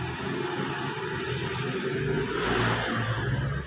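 A Honda CB150R motorcycle engine runs with a steady close mechanical drone that swells into a rev toward the end, with no talk over it.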